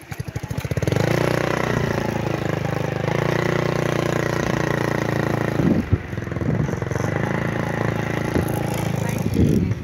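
Motorcycle engines idle and rev steadily in a busy parking lot at a park, a continuous mid-pitched drone with a brief louder surge, with people talking faintly underneath.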